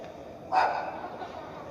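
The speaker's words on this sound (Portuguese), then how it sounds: "Meu amigo cachorrinho resolveu latir agora." A small dog gives a single short bark at mid distance, rising suddenly from a quiet room background and trailing off.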